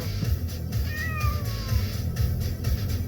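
A cat meows inside a moving car, one clear drawn-out call rising then falling, heard over a steady low road rumble and engine drone.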